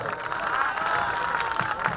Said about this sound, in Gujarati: એક વખત જોરદાર તાળીઓથી વધાવો